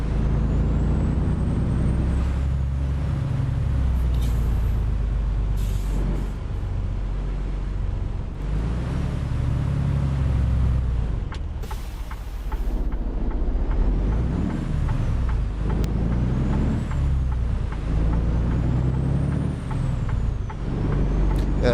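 A truck in American Truck Simulator, driving through Oklahoma, rumbles with a steady low engine drone, shifting through gears with brief dips and a hiss of air brakes, no voices over it.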